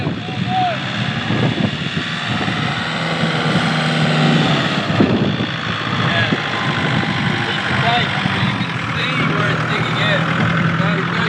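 Fully loaded van engine droning steadily in first gear on a sandy South Australian beach track, a continuous loud rumble with wind noise, a brief surge midway, and a voice speaking over it.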